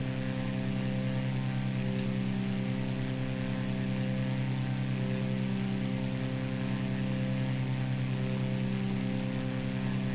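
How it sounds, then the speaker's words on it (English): Airplane engine in Microsoft Flight Simulator 2020 drones steadily and loudly for the whole stretch, a constant layered hum with no breaks. "so let's slow down the airplane a little bit"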